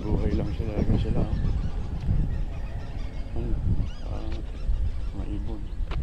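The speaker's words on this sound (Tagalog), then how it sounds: "Mga ibon." Geese or similar fowl honking close by along a roadside in a quiet rural subdivision, repeated irregular honks overlapping with people talking nearby.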